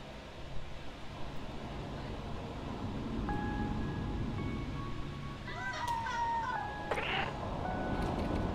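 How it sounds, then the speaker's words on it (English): A cat meowing in the video game Stray, a few drawn-out, tonal meows one after another over a low game soundscape and background hum, with a voice speaking faintly in the mix. "If I meow at the camera, it nods at me."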